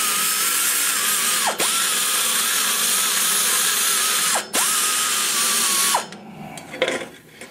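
A CNC machine mills aluminum for a Denmark ProComp small-block Chevy 190cc cylinder head, a loud continuous whirring cut with a steady high tone, broken by two brief dips and stopping near the end.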